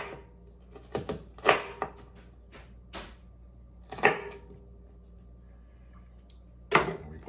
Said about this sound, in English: The onion, we're just going to cut this in half, and then we're just going to chunk it.